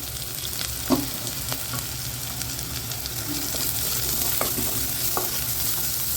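Onions and carrot sautéing in a pan for ragi upma, a steady sizzle broken by several spoon scrapes and knocks against the pan, close and with no voices.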